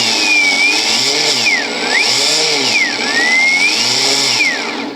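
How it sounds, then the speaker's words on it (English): Electric motor of an RC boat spooling up on a bench test, a loud, close whine rising and falling in pitch through several cycles across the whole stretch, with no talk over it. "Okay, so spooling up the motor in 3,"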